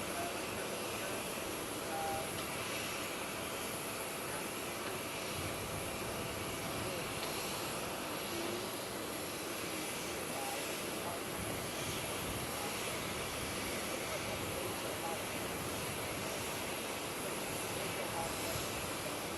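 Jet engines of Air Force Two idle on an airport tarmac, a loud steady broadband roar that fills the whole stretch without pause, with faint voices underneath.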